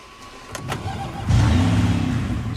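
A Porsche SUV's engine starts up and settles into a steady mid-pitched idle rumble nearby, after a few faint clicks and thumps.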